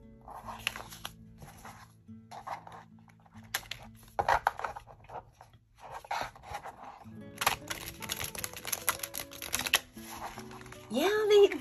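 Sturdy cardstock playing cards from a gifted deck are shuffled repeatedly in crisp riffling bursts, with a person talking over and between the shuffles.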